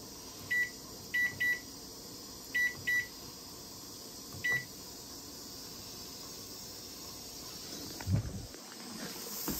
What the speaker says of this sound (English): I'm gonna go ahead and put on a timer for 100 minutes